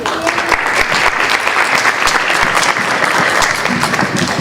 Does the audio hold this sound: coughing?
no